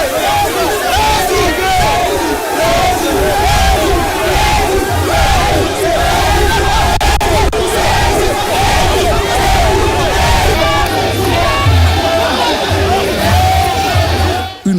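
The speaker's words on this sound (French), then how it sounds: "Une foule compacte et enthousiaste l'a chaleureusement ovationné" A dense, enthusiastic crowd cheers and roars continuously after Friday prayer, greeting the president along the route from the great mosque to Villa Sili in Guinea, a loud, unbroken wall of shouts and hubbub.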